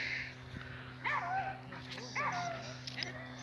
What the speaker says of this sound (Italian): Non ha più voce quel cagnetto. E per forza, pure da abbaiare continuamente